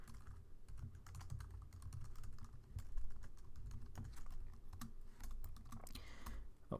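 Rapid, uneven keystrokes on a computer keyboard while coding in Java, a busy clatter of clicks continuing throughout with no talk.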